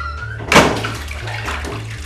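Warm water splashes and trickles as a goat's udder is washed before milking on a goat farm. A brief gush is followed by quieter dripping, close by, with a low hum behind it.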